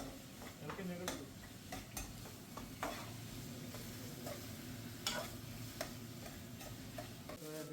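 Onions fry in a pan while being stirred, giving a steady low sizzle under repeated scraping and clinking strokes at an irregular rhythm.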